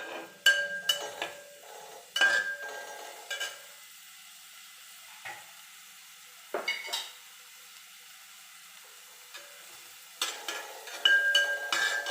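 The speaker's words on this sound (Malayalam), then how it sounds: "സവാള ഒന്ന് വഴണ്ടി വെക്കണം" Onions and green chillies sautéing in a pan for masala bread, with a faint sizzle broken by a few sharp bursts of stirring and utensil clinks, and quiet stretches between them.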